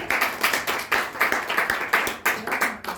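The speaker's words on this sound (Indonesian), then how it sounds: "Boleh tepuk tangannya untuk Yarmi" Brisk, steady clapping from a small group, fairly close and loud, with an even rhythm of overlapping hand claps.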